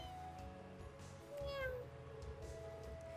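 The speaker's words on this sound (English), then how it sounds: "Meow." A cat meows in the video game Trails of Cold Steel 2, a single clear mid-length meow with a rising then falling pitch, heard over soft background game music.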